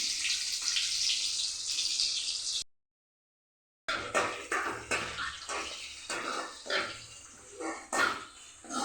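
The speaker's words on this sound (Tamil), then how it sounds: "தேவையான அளவு எண்ணெய், கொஞ்சம் வெங்காயம், கொஞ்சம் கடுகு, பச்சை மிளகா, கருவேப்பிலை போட்டு தாளித்து" Onion, mustard seeds, green chili and curry leaves sizzle in hot oil for a wheat dosa batter tempering, a steady bright hiss for a few seconds, then a pause followed by scattered crackles and clatter.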